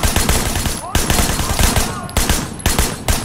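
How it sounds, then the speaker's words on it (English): An SMG in the video game Sleeping Dogs fires rapid, loud bursts of close gunfire in several clusters with short gaps between, and a voice faintly underneath. "the SMG is so bad"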